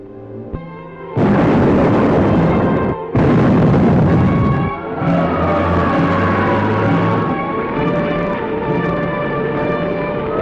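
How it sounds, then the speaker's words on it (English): Explosion sound effect from the film Captain Video, a loud sustained roaring blast that cuts out and restarts before settling into a long rumbling, wavering tail. "The explosion was felt throughout this area."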